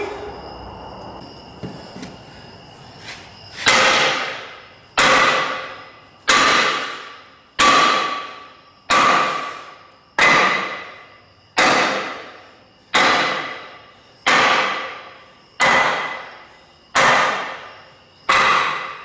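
Heavy 12-pound sledgehammer blows strike metal on a Ford 5610 tractor in a steady rhythm, about a dozen loud ringing impacts, each with a short decaying clang, close by.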